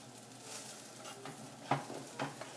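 Potato pancakes are flipped in a frying pan, with a soft sizzle throughout and a couple of sharp spatula scrapes and taps as they turn, close and fairly quiet.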